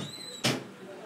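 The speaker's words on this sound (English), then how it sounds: "I'm just going to close this door." A door swings shut indoors with a single short, sharp thud, close by and standing out against quiet room tone.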